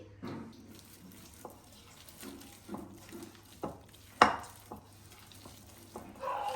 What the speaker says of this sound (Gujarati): ચપટી જેટલા ખાવાના સોડા અને સાથે જ 1 નાની ચમચી જેટલું ગરમ કરેલું તેલ ઉમેરી અને મિક્સ કરી લઈએ